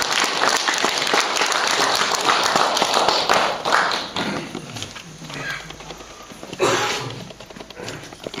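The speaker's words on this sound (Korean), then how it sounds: "박수로 맞이하겠습니다." An audience applauds to welcome a speaker to the front at a church seminar, a dense, steady clapping that fills the room and then thins and tapers, with a brief swell near the end.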